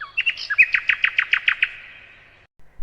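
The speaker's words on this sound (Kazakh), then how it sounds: "Әрине, құстың дауысы." Bird chirps played aloud in a classroom: a rapid run of about ten bright, evenly spaced tweets fading into a thin trailing whistle, clear and alone with no talk.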